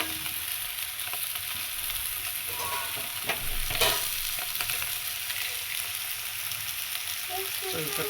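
Washed goat brain frying in a pan, a continuous low sizzle with a few soft stirring scrapes, moderately quiet and heard alone.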